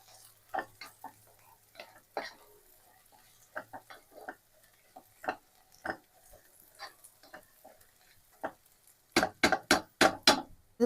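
Onions with curry leaves being stirred and sautéed in a pan, scattered soft scraping and light sizzling taps, ending in a quick run of louder spoon knocks against the pan.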